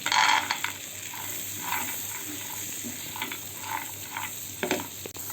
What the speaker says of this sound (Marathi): जिरं हे मिश्रण एक ते दोन मिनटं फ्राय करून घ्या मग शेंगदाणे घालून घेऊ